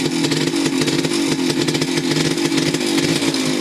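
A tricycle's small gasoline engine running steadily after starting with a single pull, a loud, close, continuous mid-pitched motor drone with slight revving fluctuations throughout, no voices.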